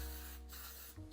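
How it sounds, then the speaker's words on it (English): A short burst of cooking spray is spritzed into muffin tins, a soft hiss lasting about a second with a brief second puff at the end. "I'm going to fill them after I spray them with cooking spray"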